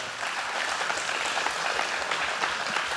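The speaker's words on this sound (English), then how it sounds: "Can everybody give them a round of applause?" A conference audience applauds the panelists at the end of a panel discussion, a close, continuous burst of clapping sustained for the whole stretch.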